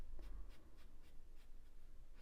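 A pencil shades across toothy drawing paper in close, rhythmic scratchy strokes, about one every third of a second, soft and steady with no voices.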